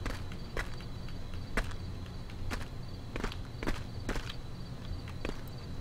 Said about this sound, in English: I hear footsteps, and it's not a zombie.